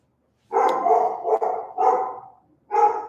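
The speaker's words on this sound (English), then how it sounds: "He's still barking." A dog barks in several separate bursts with short pauses between them, fairly close and loud, with nobody speaking during it.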